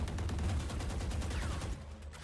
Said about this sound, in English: Checking that wall bang.